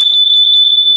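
A gas and CO detector alarm in a 2020 Taxa Mantis camper sounds a loud, piercing electronic tone continuously, steady and high-pitched, close to the microphone.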